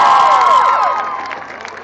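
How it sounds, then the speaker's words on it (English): An audience cheering and applauding after a show band's performance, a loud dense crowd roar with whoops that slowly fades, no speech heard. "one more round of applause"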